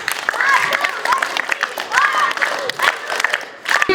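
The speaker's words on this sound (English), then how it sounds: "Clap for him, all of you." Schoolchildren clapping for a third-class student at a school English poem recitation competition, scattered uneven claps with children's voices and chatter mixed throughout.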